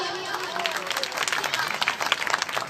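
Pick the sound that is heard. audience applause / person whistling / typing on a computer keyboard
audience applause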